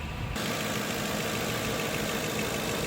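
A 2006 Ford Crown Victoria Police Interceptor's 4.6 V8 engine idling steadily close by, with a low, even rumble after a brief quieter start.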